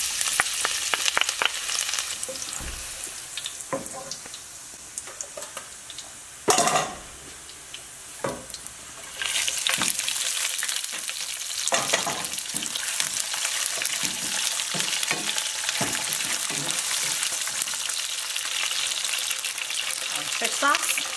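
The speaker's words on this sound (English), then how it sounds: "So I'm ready to stir fry everything. So in here is oil and garlic" Tofu noodles stir-frying in hot oil with garlic, a steady loud sizzle with scraping stirs and clanks of utensil on pan, a sharp burst partway through, continuing alone throughout.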